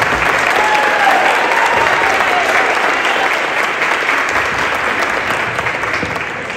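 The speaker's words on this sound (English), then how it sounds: "and I'd like to give him a clap." A room full of people at a school event in Providence gives a round of applause, loud, dense and steady clapping that tapers slightly toward the end, with no talking over it.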